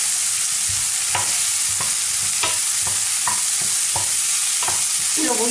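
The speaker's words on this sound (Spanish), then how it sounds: "Y lo voy a pochar" Vegetables sauté with salt in a pan for a chickpea and cuttlefish stew: a steady loud sizzle runs throughout, broken by repeated scraping stirs of a utensil against the pan.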